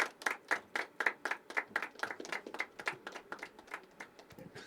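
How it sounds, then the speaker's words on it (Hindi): An audience at a poetry open mic applauds with steady, close clapping that runs throughout, each clap sharp and distinct in a brisk, slightly uneven rhythm. "अथर्व के लिए जोरदार तालियां, कम ऑन।"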